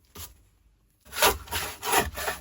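Work Zone fine cut hand saw cutting wood on a workbench, a short stroke, a pause, then three rasping back-and-forth strokes, close and clear with no talking.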